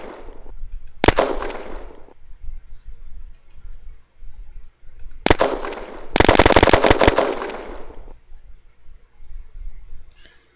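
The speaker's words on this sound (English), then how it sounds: "Press the left mouse button to fire your weapon." Weapon fire in the online shooter Red Crucible Firestorm on a target range. Single sharp reports are followed by a rapid automatic burst with echoing tails, and quiet gaps fall between the shots.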